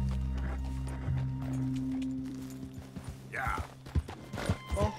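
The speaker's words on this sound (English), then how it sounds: "The horse kicked me!" Horse in Red Dead Redemption 2 clip-clops with a few uneven hoof thuds and a brief snort or whinny, heard near and moderately loud over a low game engine hum.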